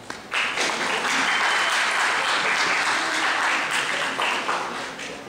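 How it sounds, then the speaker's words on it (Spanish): Conference audience applauding a speaker at a Latin American political science workshop, a steady dense wash of clapping from many hands that swells in quickly and holds for several seconds before tapering slightly. "pido un fuerte aplauso a la ponencia de hoy"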